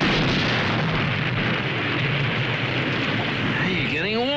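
A loud, sustained roar of a gun blast in a wartime comedy scene, a dense continuous rumble that fills the whole clip with no pause or voices over it.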